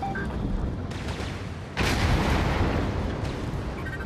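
Artillery fire in the mech combat game Vox Machinae, heard as a dense, loud, continuous rumble of blasts and booms that swells suddenly halfway through.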